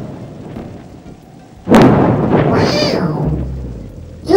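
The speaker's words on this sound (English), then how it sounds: "the large amount of charges to be discharged in the form of lightning" Thunder from a lightning discharge: a sudden loud crack followed by a long rolling rumble over a steady background hiss, fairly near and sustained.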